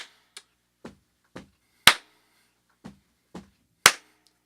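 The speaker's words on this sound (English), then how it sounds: "you stomp and then you clap" A drum lesson stomp-stomp-clap groove: paired low thuds from stomping, each pair followed by one sharp, loud hand clap, played twice at an even pace with no talking.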